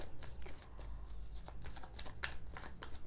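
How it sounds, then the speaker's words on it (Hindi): Tarot cards are shuffled close up, with quick papery riffles and soft flicks repeating in a fast, uneven rhythm, quiet and with no talk. "मैं कार्ड शफल कर रही हूँ"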